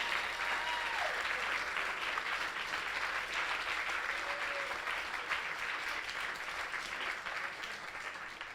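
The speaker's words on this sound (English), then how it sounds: "can we get one more round of applause for Yvette Holmes?" A theater audience at a State of the City event gives a steady, full round of applause, moderately distant and sustained for several seconds before it slowly begins to fade.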